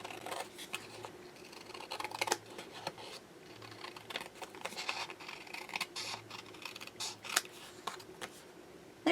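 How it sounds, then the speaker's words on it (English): Scissors cutting paper while making a shabby chic journal, close and crisp, with a run of irregular snipping and rustling strokes and no talking. "So I'm going to just cut"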